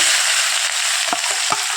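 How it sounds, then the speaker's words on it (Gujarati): Chopped medium onions are added to hot oil tempered with curry leaves for a Rajasthani mixed dal, giving a steady bright sizzle with a few soft stirring clinks. "3 મીડિયમ સાઇઝની ડુંગળી મેં સમારીને રાખી છે એ આમની અંદર એડ કરી દઈશું"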